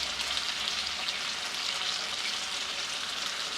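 Cluster beans frying in oil in a pan, a steady close hiss and sizzle that runs without a break and stays loud for a few seconds, with no one talking.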